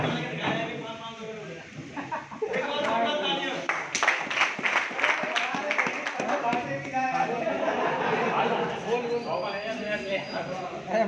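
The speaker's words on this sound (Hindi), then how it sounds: "एक बार जोरदार तालियां।" Clapping from a crowd at a live birthday party event, a dense burst of many hands rising after a moment of talk and continuing as a steady patter, with voices speaking over it throughout.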